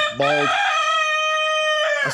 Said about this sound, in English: I hear roosters every few seconds